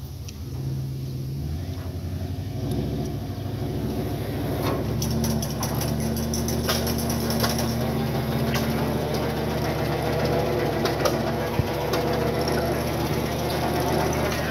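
A 1929 Case Model L tractor engine, still needing adjustment, is cranked and starts, then runs with a steady low chugging and uneven firing beats, close up and loud throughout.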